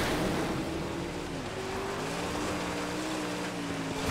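A car in the video game Mad Max, fitted with two V8 engines and nitrous, runs at a low, steady droning idle that stays faint and even throughout with no talk.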